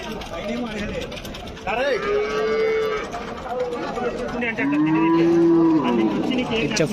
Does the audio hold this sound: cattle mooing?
yes